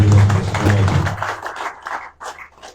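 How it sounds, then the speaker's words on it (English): An audience at a Sierra Leone aviation press conference applauds the country's President, a dense burst of clapping that fades over a few seconds into scattered claps. "I want you to give a round of applause for our President"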